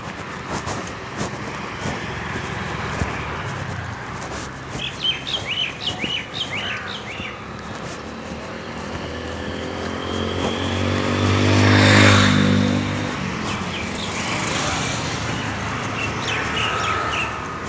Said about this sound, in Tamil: இந்த பறவைகளுக்கெல்லாம் அருமையான ஒரு குரலை கொடுத்துருக்காங்க.